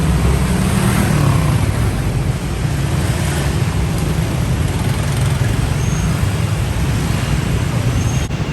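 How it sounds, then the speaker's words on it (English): Dense street traffic in District 3 of Ho Chi Minh City rumbles on without a break, a loud, close wash of engines and road noise that holds steady throughout. "The traffic dynamics are not unlike a school of fish."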